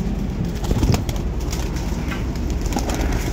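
Pigeons coo in low, throaty murmurs close by, with soft rustling and background noise throughout.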